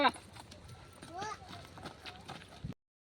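A mare's hooves clip-clop on a road near Rajula, a quiet irregular run of hoof strikes mixed with scattered voices, ending abruptly in silence.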